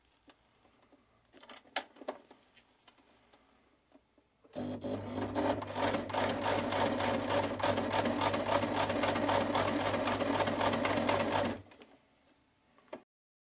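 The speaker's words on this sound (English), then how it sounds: "Next, I'm going to overlock them together, giving it a really good stretch as I do it so they stay nice and stretchy for her to put on." An overlocker runs in one continuous fast burst for about seven seconds while sewing a stretchy waistband onto leggings, loud and close, with a few faint clicks of handling before and after.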